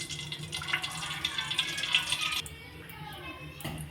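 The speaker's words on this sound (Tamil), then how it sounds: "ரீஃபைண்ட் ஆயில் ஊற்றிக்கலாம். அதோட நெய்யும் ஊற்றிக்கலாம்." Refined oil and ghee pour into a pan for paruppu sadam, a faint, soft liquid stream lasting about two seconds before fading into a quiet kitchen background.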